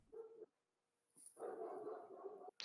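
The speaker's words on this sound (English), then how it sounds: "and dog barks apparently" A dog's faint, muffled barks and whines come from somewhere in a quiet room, in two short stretches separated by near silence.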